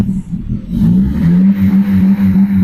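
Car engine with its MAP sensor unplugged and the check-engine light on, revved hard and held against a 3000 rpm limiter, a loud close steady drone that climbs and then sits flat at the capped pitch.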